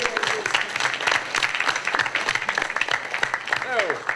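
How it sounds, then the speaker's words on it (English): A live audience at a convention discussion panel applauds, dense clapping running steadily throughout, with voices talking and cheering over it. "Audience, give yourselves a round of applause."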